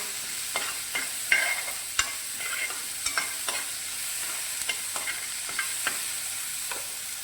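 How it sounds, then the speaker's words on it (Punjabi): Tomatoes are stirred into poha frying in a pan, with a steady sizzle broken by repeated scraping strokes of a spoon against the pan, close up and without talk. "ਤੇ ਇਹਦੇ ਵਿੱਚ ਆਪਾਂ ਹੁਣ ਟਮਾਟਰ ਪਾ ਦਿੰਦੇ ਹਾਂ"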